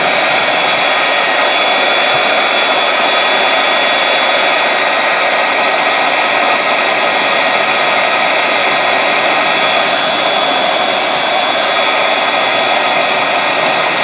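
A forced-air gas forge burner roars steadily after ignition, a loud, constant, breathy rush that fills the whole stretch without a break.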